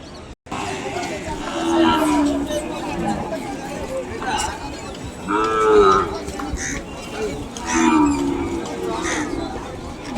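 Ongole cattle at a crowded bull market in Kodada, Telangana, giving several drawn-out moos close by, rising and falling over steady crowd chatter and talking voices.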